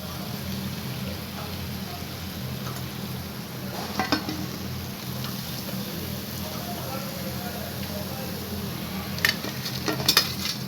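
Maida sweet dough frying crisp in hot oil, a steady close sizzle with occasional clinks of a utensil against the pan.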